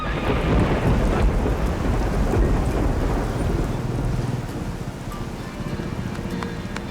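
A super typhoon thunderstorm with heavy rain and winds well above 200 km/h: dense, loud, continuous roaring downpour with deep rumbling thunder throughout, steady and enveloping with no voices.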